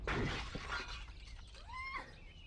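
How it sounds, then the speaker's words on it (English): A glass-framed butterfly display falls and shatters with a loud crash, followed by tinkling glass fragments that fade out, while faint bird chirps rise near the end. "It wobbled, then promptly fell on her head with a sickening and mortal crash"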